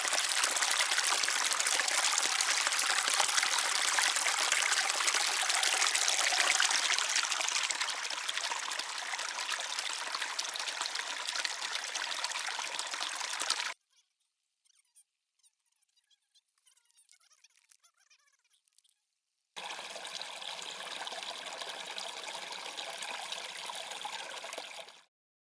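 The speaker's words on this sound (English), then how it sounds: "we just grabbed some water, dipped our head in the little creek here too" A small creek on the Pacific Crest Trail flows steadily and loudly at close range while water is collected, then goes nearly silent for several seconds before the running water returns alone.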